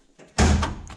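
The engine hood of a Honda Civic Type R opens with a single close, solid thunk after a faint click, then a short fading rattle.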